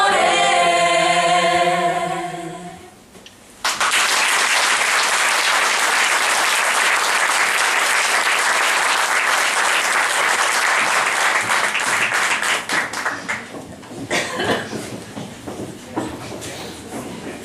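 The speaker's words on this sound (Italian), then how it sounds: "Lo rifacciamo un altro applauso?" An audience at a singers' show breaks into loud, sustained applause after a song fades out, the clapping dense and steady for many seconds before thinning into scattered claps.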